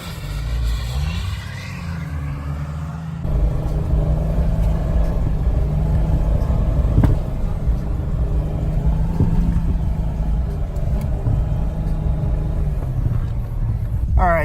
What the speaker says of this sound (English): we're gonna go enjoy some Jeep drift